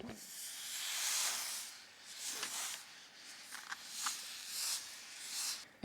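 Several soft hissing sizzles of steam in bursts as an iron presses a wet pressing cloth over fabric pleats, rising and falling over a few seconds, fairly close and without talk.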